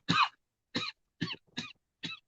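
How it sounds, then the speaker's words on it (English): A person coughs in a series of five short, dry, throaty bursts spaced roughly half a second apart, close to the microphone and with no talk between them. "Cough, cough."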